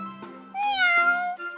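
A kitten gives a drawn-out, rising-then-falling meow after a few softer chirps, close and clear against silence.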